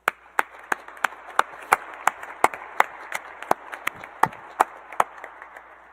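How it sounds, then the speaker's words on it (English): Audience claps for graduates at a university industrial and systems engineering senior celebration. Sharp, distinct claps come at a steady, fairly even pace, sparse rather than a dense roar, with little talk. "Please join me, graduates, with a round of applause to thank all who have supported you during this time"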